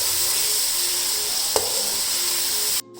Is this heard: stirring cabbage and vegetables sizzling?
yes